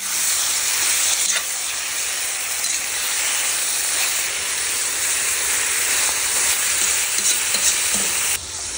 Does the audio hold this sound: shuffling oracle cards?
no